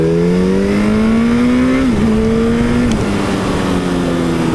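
A Yamaha FZ1-N motorcycle fitted with a Storm Oval exhaust cruises steadily at about 3000 RPM, a loud, smooth, continuous engine drone with slight pitch dips as the throttle eases, heard up close from the rider's position.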